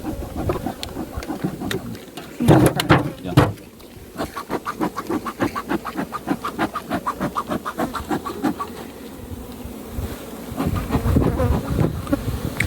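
Bees swarm around open beehives on a farm in Jamaica, a dense, close buzzing that rises and falls with many wingbeats passing near, broken by a few louder knocks and rustles.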